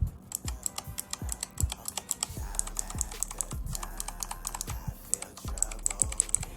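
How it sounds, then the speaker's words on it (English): Rapid, uneven keystrokes on a Razer Huntsman Elite opto-mechanical gaming keyboard, crisp clicky taps close up, with deeper thocks from larger keys bottoming out, continuing steadily with no talking. "I want you guys to hear how these keys actually sound"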